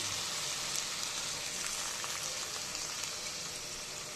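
Bowl-rinsing water is poured into a hot cooking pan of greens and mustard, producing a faint, steady hissing bubble with no talk.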